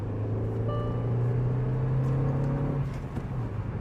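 A tuned Hyundai Verna 1.5 Turbo with a stage 1+ remap and intercooler upgrade accelerating at full throttle, a steady droning engine note rising slightly in pitch, heard from inside the car without talk.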